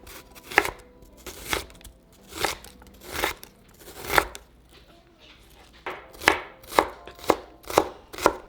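A knife chops half an onion on a cutting board in sharp, close strikes, irregular at first and then a quicker run of evenly spaced chops, with no talk.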